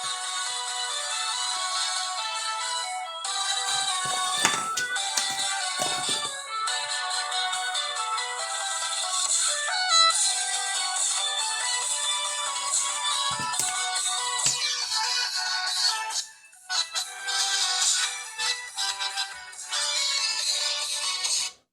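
Music plays through the small speaker of an Oukitel U16 Max phone, sounding thin and tinny with no bass, and continues steadily with a few brief dropouts near the end.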